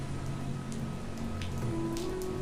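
Heavy rainstorm in a cartoon, a dense, steady hiss of pouring rain that holds evenly throughout with no breaks, with low tonal hums underneath.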